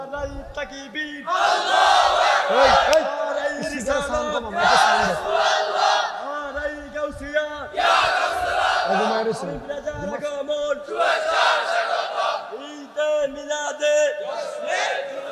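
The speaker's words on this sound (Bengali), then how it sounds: "জবান খুলে জোরে একটা তাকবীর হোক" A large crowd at a religious gathering roars a takbir chant in unison, loud repeated bursts of many voices rising and falling over about fifteen seconds, led by a voice between them.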